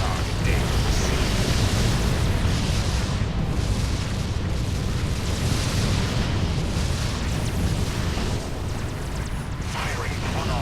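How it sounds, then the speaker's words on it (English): Spaceship batteries open fire in the Sword of the Stars strategy game, a dense continuous barrage of booming blasts and rumbling explosions layered thickly together, loud and sustained with little pause. "Firing on all batteries."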